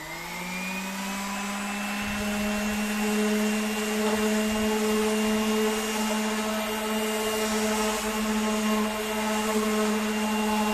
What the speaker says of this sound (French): on va brancher la ponceuse, on va partir à poncer tout ça là avec du gros grain